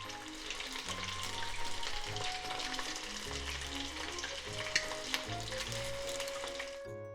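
Shiso leaf tempura fries in hot oil in a Japanese home kitchen, a steady soft bubbling sizzle running throughout, faint and close, under background music with a couple of small clicks and no talk.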